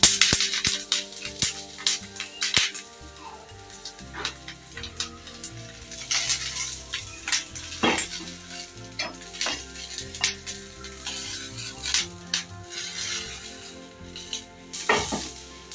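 Green chillies frying in a spoonful of oil in a pan, a steady crackling sizzle broken by sharp spatters and scraping stirs, close and fairly loud.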